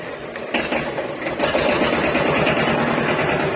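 A Hinomoto E18 tractor engine runs close by with a steady, rapid mechanical chatter, picking up in intensity after the first half second and holding loud and even to the end, with no talk over it.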